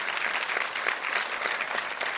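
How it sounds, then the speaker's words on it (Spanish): Mourners at a memorial for actress Edith González break into spontaneous applause, a moderately quiet, steady patter of many hands clapping without pause. "Fue un aplauso espontáneo cuando hablaban de López Tarso."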